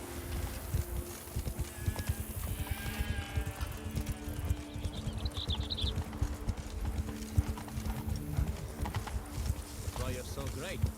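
Roach, a horse in The Witcher 3, trots with steady clip-clopping hooves, close and rhythmic, under ongoing game dialogue and ambience, with a brief high whinny-like call partway through.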